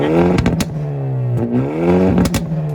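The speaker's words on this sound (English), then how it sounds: "two big exhausts that make a really nice noise." A 2023 Hyundai i30 Sedan N with a manual gearbox and twin big exhausts revs hard, its engine note climbing and falling in several close, loud bursts with crackling pops between them.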